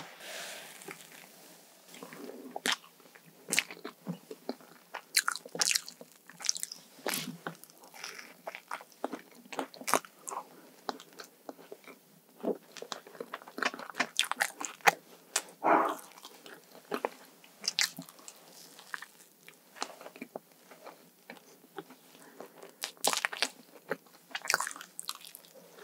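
Crisp bites and steady chewing of a sweet potato cream scone, close and intimate, with irregular crunchy bursts throughout and no talking.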